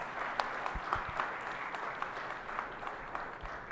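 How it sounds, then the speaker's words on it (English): An audience at a maritime conference applauds its panelists, steady clapping from a crowd lasting the whole stretch at moderate loudness. "join me in a huge round of applause for the panelists"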